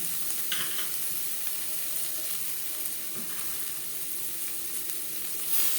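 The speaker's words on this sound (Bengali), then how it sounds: "রসুনের স্মেলটা খুবই ভালো আছে দু তিন মিনিট মশলা ভেজে নেওয়ার পর দিয়ে দেবো গাজর" Spices and garlic frying in a pan give a steady, soft sizzle throughout, with a few faint stirring scrapes, and no one speaks.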